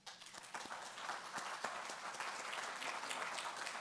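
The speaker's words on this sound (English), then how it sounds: "let's give them another round of applause" A crowd claps steadily for several seconds, a dense patter of many hands that stays loud and even throughout.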